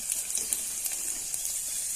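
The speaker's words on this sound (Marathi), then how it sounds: "इथे जिरे चांगले तडतडून झाल्यात" Steady crackling sizzle of cumin seeds popping in hot oil, with small sharp spits scattered through, close and continuous with no talking.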